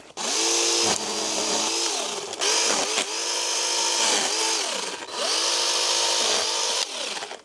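A battery mini chainsaw with a 30-centimetre bar cuts through a tree limb, its high motor whine rising and dipping in several loud bursts with short pauses between cuts.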